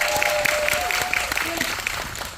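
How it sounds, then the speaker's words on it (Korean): Audience clapping at a Korean film screening Q&A, a steady dense patter of many hands filling the room, with a host's voice and tonal sounds running underneath. "박수 한 번만 더 주세요"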